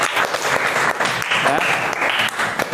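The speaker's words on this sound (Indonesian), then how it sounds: "Oke, tepuk tangan." Classroom applause from students in a lesson on cylinders, a short burst of steady clapping with voices mixed in over the top.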